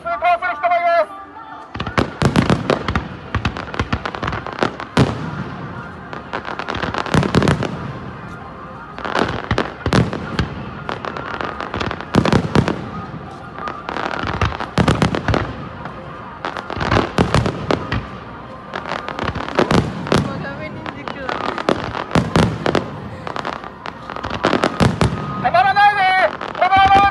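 Fireworks burst again and again at a crowded festival near a bridge, loud, booming and irregular throughout, while a voice keeps directing the crowd over the blasts.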